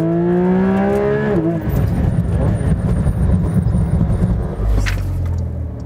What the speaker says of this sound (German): Noch eine Bremsung?